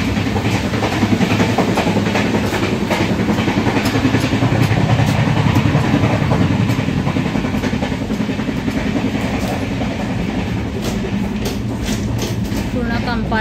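A Konkan Railway train on the Kankavli to Mumbai route runs along the tracks, giving a loud, continuous rumble with rhythmic clickety-clack from the wheels, heard from on board, with faint voices underneath.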